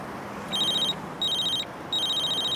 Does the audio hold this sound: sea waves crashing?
no